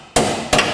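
Two sharp metallic hammer blows strike a bolt on a Land Rover Discovery front lower suspension wishbone, close by, spaced under half a second apart, each ringing briefly.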